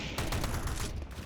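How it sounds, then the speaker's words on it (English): Counter-Strike gunfire on the Anubis map, a dense, loud burst of rapid overlapping shots running continuously for just over a second, with no voices. "A lot of gunfire heading onto platform here."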